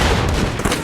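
Dense, loud machine gun fire from a World War II Pacific battle scene in The Pacific, with overlapping bursts and rattling shots that run through the whole short moment and carry no speech.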